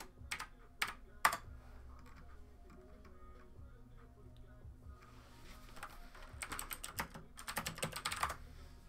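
Keystrokes on a computer keyboard as a score is typed into a live chat, scattered bursts of quick taps separated by pauses, with a denser run of typing near the end, close and fairly quiet.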